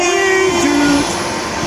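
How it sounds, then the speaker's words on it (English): A train sounds its horn twice near the Newton Abbot line, a long blast then a slightly lower second one, over steady rumble of the moving carriages. "So that's why the happy trains whistle."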